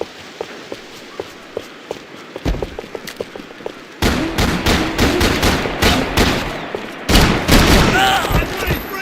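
Video game gunfire in Max Payne 3: rapid sharp shots, first sparse and distant, then a dense, loud barrage of close bursts mixed with footsteps and shouting voices.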